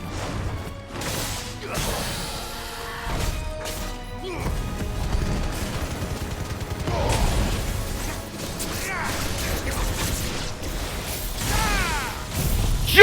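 Judgment Bolt lightning attack in Final Fantasy XVI: a long barrage of crashing, whooshing magical impacts and thunderous cracks, with sweeping tones near the end, loud and layered over game effects, with a voice shouting over it.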